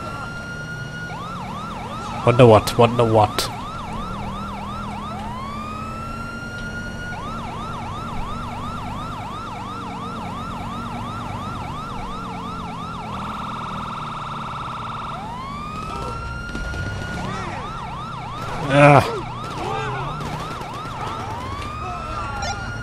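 Emergency vehicle sirens in the police mod LSPDFR for GTA V wail and yelp in repeated rising and falling cycles. Several overlapping tones switch patterns, two sharp loud bursts break through, and a voice briefly reacts.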